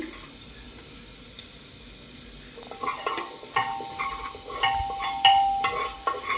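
Chopped garlic frying in a pan for a chicken stew, a low sizzle that grows louder and busier partway through, with clinks and scrapes of stirring and some watery splashing, close by.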